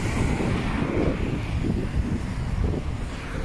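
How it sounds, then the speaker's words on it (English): Strong wind blowing outdoors near an old castle, a continuous low rumbling buffet of gusts battering the microphone, loud and close with no clear voices. "Very breezy now."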